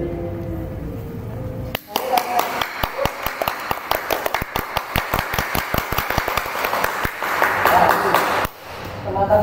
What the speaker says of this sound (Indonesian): Mari kita panggil Kak Husen dengan berikan tepuk tangan yang meriah.